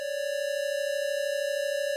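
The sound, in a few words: two sine waves saturated into square waves in normal stereo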